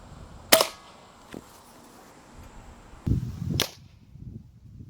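A gun fires a homemade exploding round into a book, a single sharp crack followed by a lower thud and another bright snap a few seconds later, set against a quiet background.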